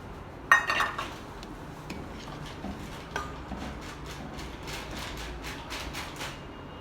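A metal spoon clinks and scrapes against a warm pot as sugar goes in, with one sharper knock at the start and then a run of light, repeated taps and rattles at close range.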